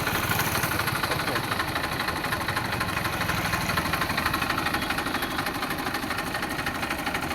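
A Massey 245 tractor engine idles with a steady, throbbing diesel rumble and even rhythmic pulses, loud and close, with no talk.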